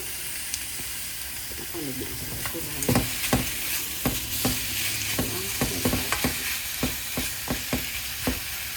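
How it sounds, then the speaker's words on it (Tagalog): Pork frying with mung beans in a pan, a steady broadband sizzle with repeated sharp scrapes and clinks of a spatula stirring at close range, a faint voice now and then in the background. "So we can stir fry."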